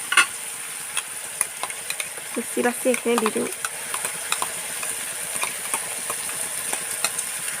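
Continuous pan sizzle with scattered clicks and stirring scrapes; a voice speaks briefly partway through.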